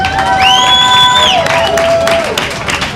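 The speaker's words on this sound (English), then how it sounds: "give them all a big round of applause" A live show crowd cheers and applauds, with a loud sustained whoop or whistle gliding over dense clapping and shouting that fades slightly toward the end.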